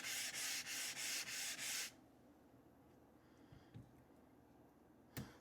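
A new honing stone rubbed flat for razor honing, six rhythmic scraping strokes up close, then quiet with a few faint taps and one sharp click near the end; nobody talks.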